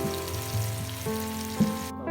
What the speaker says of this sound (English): when you cook the fish on a shallow fry, the fish remains to be moist